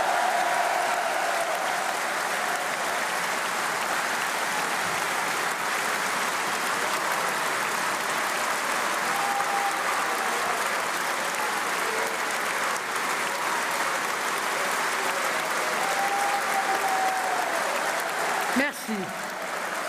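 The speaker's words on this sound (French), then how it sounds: "Et je vous demande en signe de soutien de les applaudir." A rally crowd applauds continuously in a large Paris hall, dense, even clapping that holds steady for about twenty seconds from a distance, with faint crowd murmur beneath and no single voice standing out.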